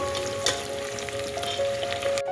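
Whole spices, including bay leaf, cinnamon, cloves and black peppercorns, fry in oil for green chilli chicken biryani: a steady close sizzle with scattered crackles and pops, ending in an abrupt clatter.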